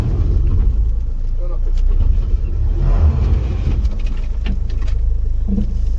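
A car engine revs and strains while the vehicle manoeuvres on a mountain road on the way to Kedarnath, a loud, close rumble that surges and falls, with people talking over it.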